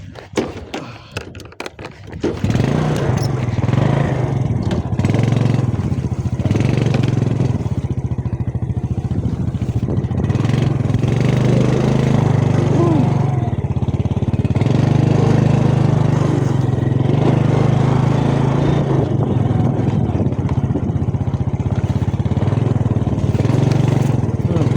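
A motorcycle engine runs loudly and continuously after a brief rustle at the start, its rumble rising and settling as it rides on a rough road.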